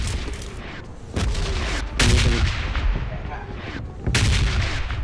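Video game gunfire crackles in several loud bursts of shots with short pauses between them, while players chatter over the action.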